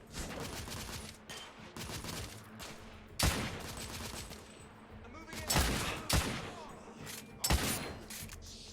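Bursts of gunfire in the shooter game The Order: 1886, several sharp volleys of rapid shots spaced a second or two apart over a continuous rumbling battle backdrop, with voices faintly in the mix.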